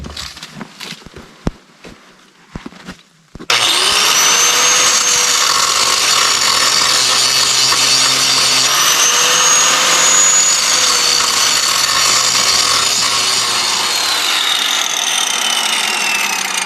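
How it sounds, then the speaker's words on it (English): After a few brief clanks, an angle grinder bites into the metal of a Jeep snowplow mount, a loud, sustained high-pitched grinding whine that holds steady for over ten seconds with slight pitch shifts under load. "I'm gonna go ahead and do a little grinding, expose some bare metal for some welds"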